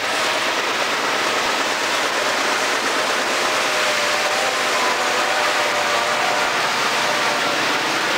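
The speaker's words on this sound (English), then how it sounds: "A Santa Fe C30-7 leads the short eastbound around the loop." A Santa Fe C30-7 locomotive leads a short eastbound freight train around the Tehachapi Loop, giving a steady, loud rumbling roar of engine and rolling cars that stays constant throughout.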